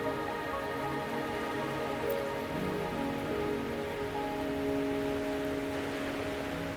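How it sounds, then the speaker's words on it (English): Steady rain falls in the video game Wuthering Waves, a continuous soft patter spread evenly across the clip with faint musical tones held underneath and no voices. "Are you trapped here by the rain?"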